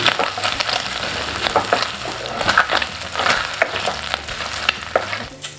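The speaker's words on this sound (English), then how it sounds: "So while the bacon is cooking, I will just put on 2 cloves of garlic at the center, just to have that garlic taste." Bacon frying in a pan with two garlic cloves, a loud, continuous sizzle close up with scattered spatters and occasional stirring clicks throughout.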